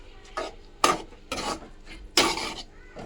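Maggi noodles are stirred in a cooking pot with coriander, giving four separate scraping, rasping strokes of utensil against pot, close and fairly loud, with no talk.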